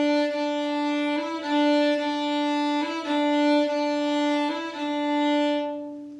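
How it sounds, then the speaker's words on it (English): Violin plays the opening measure of the Scottish fiddle tune Skyboat Song, a sustained bowed tone with a few slight note changes in a long-short rhythm, close and steady, fading out at the end. "This week's tech check is number 175, Skyboat Song. This is a Scottish fiddle song."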